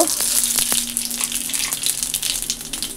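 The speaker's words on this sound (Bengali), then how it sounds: "তো ডালে আজকে রাঁধুনি ফোড়ন দেব" Radhuni seeds sizzle as they are tempered in hot oil for dal, a close, hissing crackle that keeps going with a few sharp pops over three seconds.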